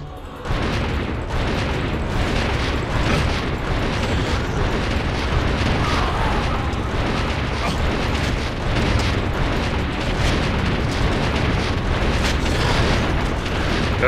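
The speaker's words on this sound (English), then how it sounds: "Got a rocket launcher." Heavy rocket-launcher blasts in the video game Enclave, a dense, continuous roar of booming explosions that stays loud and close for the whole stretch with no pauses.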